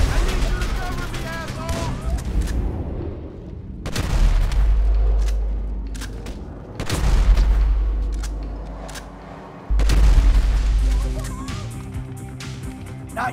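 Grenade explosion and gunfire in the Grand Theft Auto 5 video game: three heavy, loud booms strike about three seconds apart, each followed by a decaying rumble, with sharp gunshots and battle noise throughout.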